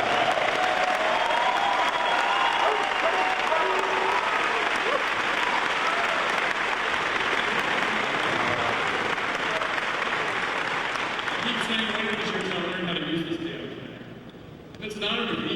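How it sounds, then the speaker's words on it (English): A large audience applauds steadily at the International Mr. Leather event to welcome the chief judge, a dense sustained wash of clapping with crowd noise that fades toward the end. "Let's give Tom a nice round of applause."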